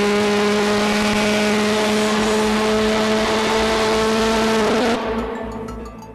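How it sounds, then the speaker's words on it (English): A loud, roaring jet engine fired up on a stage runs at full power with strong steady tones, then cuts off abruptly near the end and fades away. "as the loud engine is actually fired up on stage."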